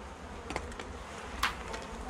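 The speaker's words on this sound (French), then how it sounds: "C'est pas les abeilles qui manquent." Honeybees buzz in a dense, steady drone at an opened beehive during a spring hive inspection, with louder individual bees passing close by now and then.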